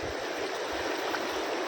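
River water flows as a steady, soft rushing hiss, heard alone without any voices and fairly faint throughout.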